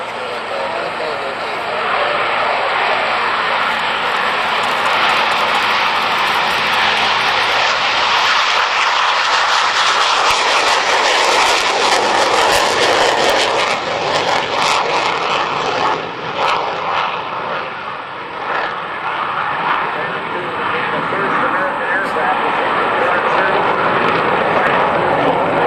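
A McDonnell Douglas F-4 Phantom II jet roars loudly through a display at an air force base airshow, a sustained, broad engine rumble that swells and shifts as it passes, with a public-address announcer talking over it.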